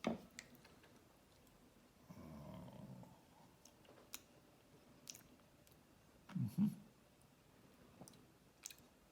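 Quiet, close chewing and mouth sounds from tasting a deviled egg filling, with a soft burst of chewing around the middle and a louder pair of bites near the end, no talk.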